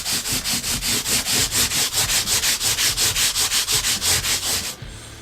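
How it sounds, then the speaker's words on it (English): A sanding block rubs back and forth along the frets of an old Epiphone Les Paul Special, giving close, loud, rhythmic scratchy strokes, about four per second, before stopping abruptly near the end. "I'll get my old trusty sanding block,"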